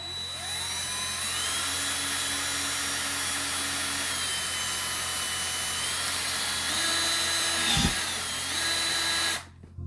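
A power drill bores straight down into wood while a Halloween candy chute slide is being built. Its steady, close motor whine runs for nearly ten seconds, shifting pitch a few times, then cuts off abruptly.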